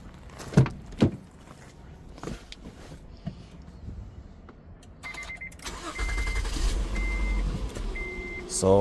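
A Honda Odyssey's engine starts off a portable jump starter, a few sharp clunks before it catches and settles into a steady idle, with brief electronic tones chiming over the running engine near the end.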